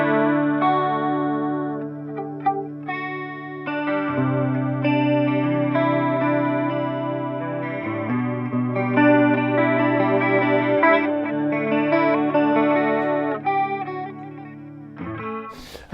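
Electric guitar through an MXR Analog Chorus pedal, sustained chords and melodic notes ringing with a warm, wavering chorus modulation, played alone.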